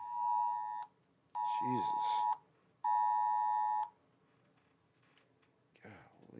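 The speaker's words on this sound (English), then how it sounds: "the Amber Alerts break through the silence of the phone" Loud phone Amber Alert emergency tone breaking through silent mode: three long harsh electronic blasts in a row with short gaps, close by, while a man briefly exclaims between them.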